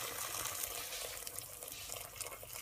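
Hot water is poured over beef in a pot, a faint, steady watery rush running continuously at low volume with no speech.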